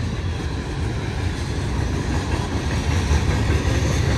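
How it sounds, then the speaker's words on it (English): Freight train hauling ethanol tank cars, led by a CP ES44AC locomotive, passing steadily at close range with a continuous loud rumble and rolling wagon noise throughout. "we're literally stuck by a train"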